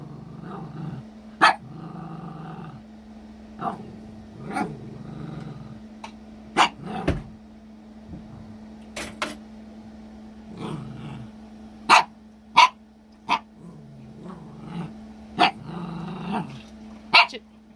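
A dog barks and growls at its own reflection in a shiny food bowl, with sharp, loud barks in irregular bursts between low rumbling growls, close by and with no talking.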